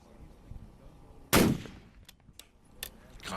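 A long-range rifle fired at a target over a mile away, one loud sharp shot that booms and then decays. A few faint clicks follow in the quiet outdoor background.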